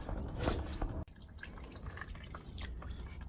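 Gasoline drains out of a VW Mk3 fuel filter, trickling and splashing steadily up close, then cutting off abruptly and giving way to quieter, scattered drips.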